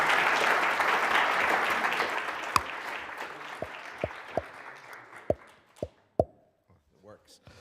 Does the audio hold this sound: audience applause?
yes